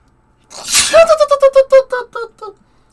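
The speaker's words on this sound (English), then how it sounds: "I gotta sneeze." One loud, close human sneeze that builds with a sharp intake and then trails off in a run of fading, shaky vocal bursts, heard alone.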